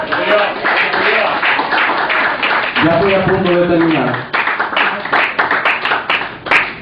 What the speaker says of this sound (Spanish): Den un fuerte aplauso a Cristo por eso.